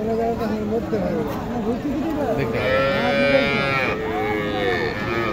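Cattle at a livestock market moo in long drawn-out calls, several overlapping at close range, while people talk nearby.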